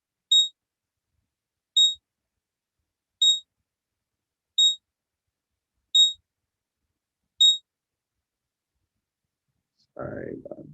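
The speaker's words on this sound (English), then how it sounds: "Got a lot of alarms going off right now." A trading platform sounds six identical short electronic alarm beeps at a steady interval of about one and a half seconds against silence, followed by a brief burst of noise at the end.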